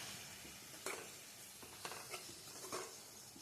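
Tomatoes frying in oil for an egg and brinjal masala curry, stirred in a pan: a steady close sizzle broken by several scraping spoon strokes, with no voices.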